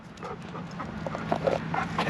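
An excited dog pants rapidly and whimpers close by, quick breathy puffs and small whines over a low engine hum inside a van.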